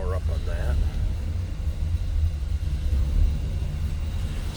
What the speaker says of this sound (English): A little rumble coming out of that 428. A little low idle.